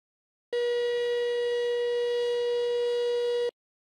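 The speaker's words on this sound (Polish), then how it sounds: "syrena do zwoływania strażaków w razie alarmu" A steady, loud electronic fire station siren tone holds one pitch for about three seconds with strong harmonics, starting and stopping abruptly, with silence around it.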